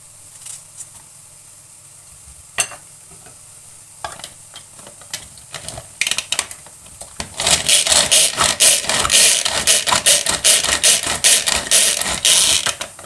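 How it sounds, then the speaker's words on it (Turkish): An electric hand blender chopping large onions in a home kitchen, starting with a few short taps and bursts, then running in a loud, continuous whirring chop of blade against onion pieces for the last several seconds, with no talking. "benim el rondom var. El rondasından geçireceğim."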